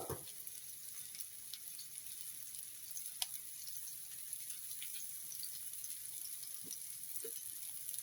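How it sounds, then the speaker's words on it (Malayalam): Mustard seeds, a couple of fenugreek seeds and a chili crackle in a tablespoon of hot oil, a faint continuous sizzle dotted with sparse small pops, with no speech. "കടുക് പൊട്ടുമ്പോൾ നമുക്ക് വെണ്ടയ്ക്ക ഇടാം."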